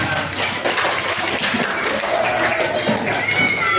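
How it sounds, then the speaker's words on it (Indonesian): A classroom group claps for a student named Iqbal during a primary teacher-training lesson: dense, steady applause that holds for about four seconds, with voices mixed into the noise. "tepuk tangan untuk Mas Iqbal karena keberaniannya"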